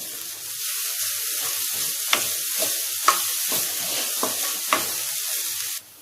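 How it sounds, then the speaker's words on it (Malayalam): Shredded coconut dry-roasts in a pan without oil under a soft steady hiss, as a spatula scrapes and taps it every second or so, then the sound cuts off abruptly. "നമ്മൾ വെറുതെ ചട്ടിയിലിട്ട് വറുത്തെടുക്കുകയാണ് ചെയ്യണത്"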